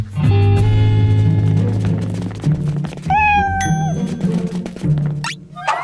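Several cat meows ring out one after another, clear and close, with a drawn-out yowl in the middle against a busy cartoon background.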